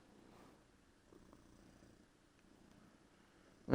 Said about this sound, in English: she purrs